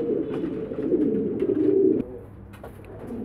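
Pigeon kept by a breeder, cooing with a low, rolling murmur that swells for two seconds and then drops to a softer continuing coo, close and alone with no talk.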